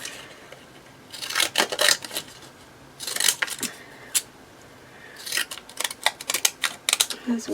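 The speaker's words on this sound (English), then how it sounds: "I'm just going to cut around them." Zigzag decorative scissors cutting around card pieces while making Christmas cards, giving bursts of close, crisp snipping in three clusters separated by pauses.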